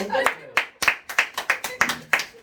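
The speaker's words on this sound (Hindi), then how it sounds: "ताली बजाओ ताली बजाओ" Audience at a classroom science talk claps in about nine distinct, fairly evenly spaced beats, like a small group clapping in rhythm, close and moderately loud.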